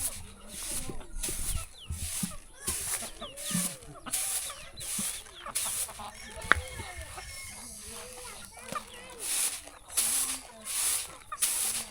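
Chickens cluck repeatedly in a rural Lao tribal village, short near clucks in irregular bursts over a faint outdoor background, with a voice talking now and then.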